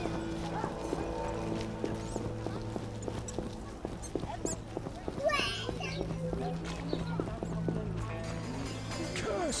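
Steady clip-clop of horse hooves trotting along in The Witcher video game, mixed with game music and occasional effects, with no one speaking over it.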